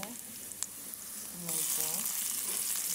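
Garlic is dropped into a hot pan for an eggplant-and-egg dish and hisses close by, the sizzle growing louder partway through, with faint voice-like tones over it.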